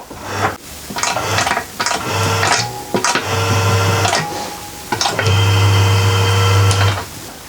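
A sheet metal forming machine shaping a Mercedes body panel chatters in rapid rhythmic bursts much like a sewing machine, several loud close runs of a few seconds each separated by short pauses, with no talk.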